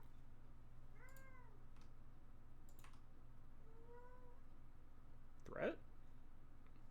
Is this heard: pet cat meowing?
yes